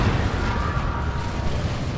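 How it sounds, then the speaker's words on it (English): Las cannon and autocannon fire in Warhammer 40,000: Dawn of War 2 make a dense, continuous roar of blasts and booms, with steady heavy rumble and no clear gaps between shots. "In the mid, las cannon and auto cannon shots on the Great Unclean One there"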